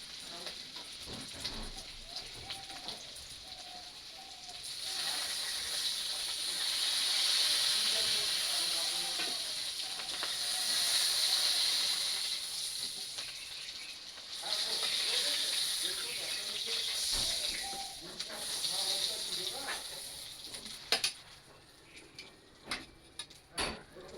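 Potato pieces frying in oil in a pan for a Bengali rui fish curry: a steady bright hiss and sizzle that rises and falls in waves over about twenty seconds, with scattered ticks and clatter near the end.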